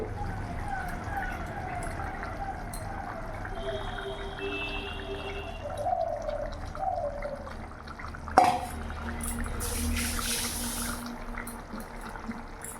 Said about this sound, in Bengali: এবার এরই মধ্যে আমি এক এক করে মাছগুলো দিয়ে দেবো